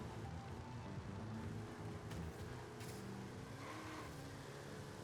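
A 1969 Pontiac GTO Judge driven in the Forza Horizon 5 racing game, its engine droning and shifting pitch at a fairly low level through corners, with no talk.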